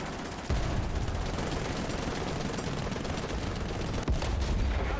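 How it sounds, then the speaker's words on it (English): Gunfire rattles through a tank battle video game, a dense, sustained burst of shots with a sharp onset and another crack near the end, loud and alone without voices. "Okay, there was some gunfire."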